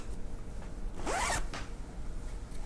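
A centered zipper sewn into fabric is pulled in one quick, close rasping stroke, with a couple of faint brushes of cloth afterward.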